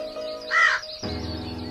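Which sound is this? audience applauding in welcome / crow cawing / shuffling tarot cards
crow cawing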